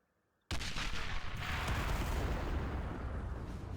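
Heavy explosions in the WWII strategy game Men of War: Assault Squad 2 erupt suddenly after a moment of silence, then roll on as a loud, sustained barrage of blasts and gunfire.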